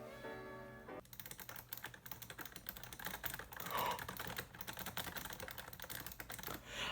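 Typing on a Razer Ornata Chroma mecha-membrane keyboard: a dense, steady patter of soft clicky keystrokes, close and fairly loud, following a brief tonal sound at the start, with no talking.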